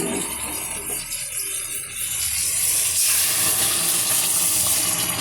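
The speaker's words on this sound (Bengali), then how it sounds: "আর এখানে ফোটানো জলটা গরম হচ্ছে, এই জলটাই দেব।" A pot of water heats toward a boil on a home stove, giving a steady hiss that grows louder and brighter halfway through, with no talking.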